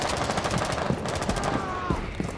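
Close automatic gunfire in Rainbow Six Siege rattles in a rapid, steady stream of shots, with a brief whistling tone partway through.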